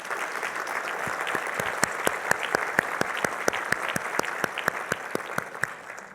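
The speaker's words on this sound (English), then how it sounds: "let's give a big round of applause to our fabulous convention staff and servers that are assisting us this morning" A convention audience at the Port of Long Beach State of the Port 2017 applauds for staff and servers, a steady crowd clapping with a rhythmic pattern of sharp, evenly spaced claps standing out from the general applause.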